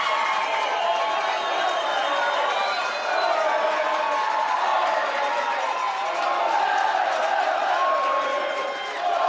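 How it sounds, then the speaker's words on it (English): Cavemen supporters cheer at a boys high school soccer match between Skyridge and American Fork, a steady, dense crowd roar with shouts and whoops sustained throughout, loud and continuous without a break. "Listen to the cheer from the Cavemen faithful"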